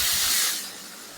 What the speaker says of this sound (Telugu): ఇందులో ఇప్పుడు మనం రెడీ చేసుకున్న పేస్ట్ వేసుకుందాం.